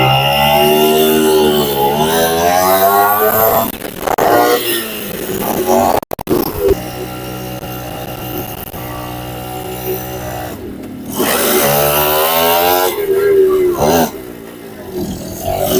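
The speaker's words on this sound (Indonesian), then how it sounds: "Langsung hidup kan motornya." An old 50cc motorcycle engine starts and runs, a loud buzzing two-stroke-style drone that revs up and down in waves, briefly cutting out before picking up again.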